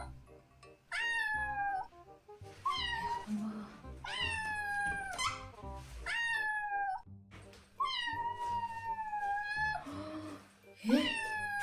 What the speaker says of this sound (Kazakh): Мысықтың дауысы міне.